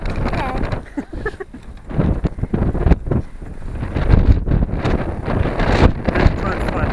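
Strong gusty wind buffets the microphone outdoors on a very windy day, a loud, rough, continuous rumble with irregular surges throughout, and a voice is faintly audible beneath it.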